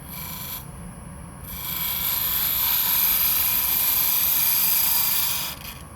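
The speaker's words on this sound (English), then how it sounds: "The first thing is to see how it goes with the cutting the end grain. There's a 3/8 spindle gouge" Wood lathe spinning while a 3/8 spindle gouge cuts end grain, a steady high-pitched whine with a continuous scraping hiss that swells in the middle and drops away at the end.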